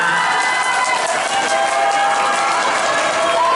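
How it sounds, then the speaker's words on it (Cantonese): Dense applause and cheering from a crowd at a song launch event in a Tseung Kwan O shopping centre, loud and sustained throughout. "你有啲掌聲啊！"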